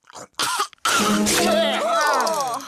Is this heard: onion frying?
no